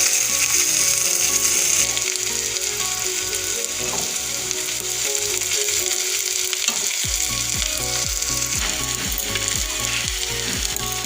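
Onions and green chillies fry in oil in a wok, a loud continuous sizzle with stirring and rhythmic clatter running underneath for the whole stretch, no voices.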